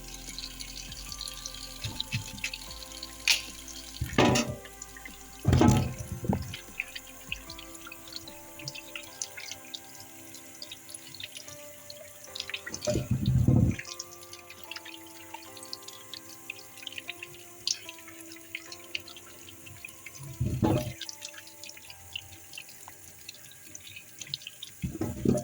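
A kitchen tap runs into a sink while food is washed for a Jamaican breakfast of tinned mackerel, dumplings, banana and sweet potato. Water gushes in several separate bursts, with quieter dripping and handling noise between them and no talking.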